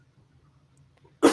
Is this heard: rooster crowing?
no